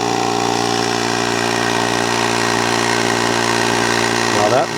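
A small portable tire air compressor pump starts up and runs loud and steady with a dense mechanical drone, its pitch shifting slightly near the end.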